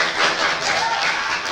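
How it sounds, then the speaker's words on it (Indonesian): Students in a classroom clap briefly for a student group, a short burst of scattered hand claps with a faint chuckle among them. "Tepuk tangan dong buat Selin."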